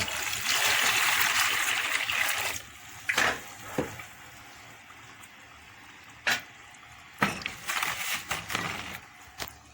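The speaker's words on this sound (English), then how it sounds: "A little of water added initially before stirring." Water is poured into a container holding STPP and soda ash for a liquid soap mixture: a steady trickling pour, then a few short splashes and dribbles.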